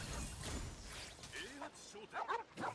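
Dogs barking and yipping in the video game Genshin Impact, several short bursts of barks and whimpers mixed with a player talking over them.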